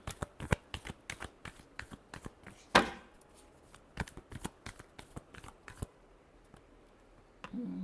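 Tarot cards are shuffled by hand in quick, close riffling flicks, one sharper slap near the middle, then the shuffling slows and stops before a faint closing rustle.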